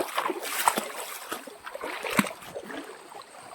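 A buffalo walks slowly into water to drink, and its legs give soft, irregular splashes and sloshes at close range, with two sharper splashes standing out above the constant trickle.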